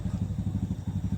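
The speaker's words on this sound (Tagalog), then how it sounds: "Meron nakamotor na pumunta dito." A motorcycle engine chugs close by with a fast, regular, low pulsing beat, loud and steady throughout the short stretch with no voices.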